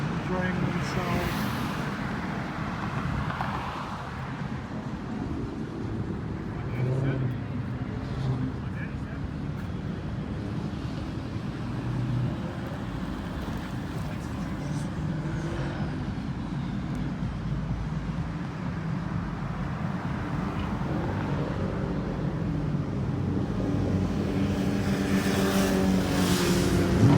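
Cars cruising on Woodward Avenue heard from inside a moving 1959 Chevy on a Saturday evening, with a steady engine and road rumble throughout and occasional passing traffic, rising slightly toward the end, while voices talk over it.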